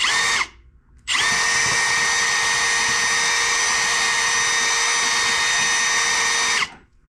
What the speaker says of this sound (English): gonna see if this will drill off.